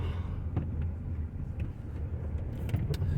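A Kia Optima drives with a low, steady engine and road rumble, and faint clicks and shifts come through the cabin. No one speaks.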